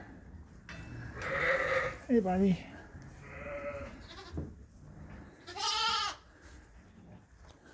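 Sheep bleat several times inside a cold barn at night, wavering calls from nearby animals rising and falling over low shuffling noise, while someone speaks briefly between them.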